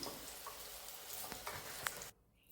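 Eggplant frying in oil with a little salt, a steady crackling sizzle with scattered ticks and pops lasting about two seconds before cutting abruptly to near silence.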